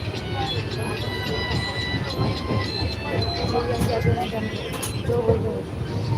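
A passenger train from Gulbarga to Solapur rumbles steadily along the rails with a rattling, clattering texture and occasional faint squeals, while voices talk underneath.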